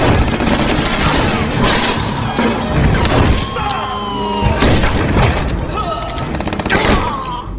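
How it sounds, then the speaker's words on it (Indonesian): Gunfire from a shootout between two rival gangs in a crime film, dense bursts and booms crashing over a loud, busy soundtrack with music and scattered impacts throughout. "hanya Vincent yang selamat dari baku tembak tersebut"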